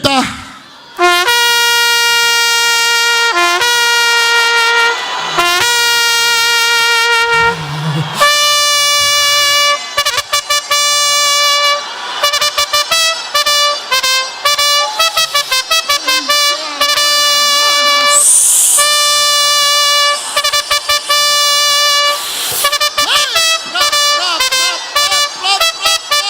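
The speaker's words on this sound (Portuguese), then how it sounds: "A trombeta vai tocar mais ou menos assim. Toca aí, trombeta." A trumpet blasts long sustained notes during a church service at a women's congress, loud and bright, repeating in held tones and quicker bursts for nearly half a minute, with no talk over it.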